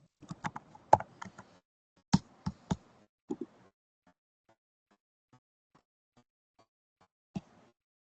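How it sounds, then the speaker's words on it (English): Keys on a computer keyboard are struck in short irregular bursts of sharp clacks during a remote public meeting, some hits loud and hollow like tapping, then a few faint isolated taps and a final single clack. "your typing sounds like tap dancing"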